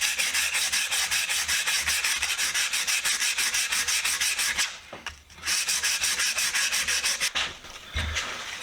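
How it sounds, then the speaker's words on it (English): A hammer handle being sanded with 150 grit sandpaper, a rapid rhythmic back-and-forth rubbing close up, with two brief pauses between bursts of strokes. "So I'm going to hit this handle with some 150, give it a little bit of sanding"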